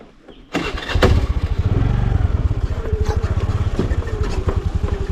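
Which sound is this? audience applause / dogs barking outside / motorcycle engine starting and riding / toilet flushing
motorcycle engine starting and riding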